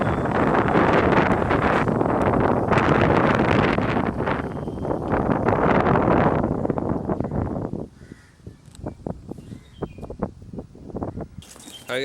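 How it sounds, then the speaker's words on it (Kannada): Strong wind blasts across an open outdoor spot, a loud roaring rush buffeting the microphone for several seconds before dropping to weaker gusts and scattered thumps and crackles. "ಈಚೆ ಫುಲ್ ಗಾಳಿ ಬರ್ತದೆ."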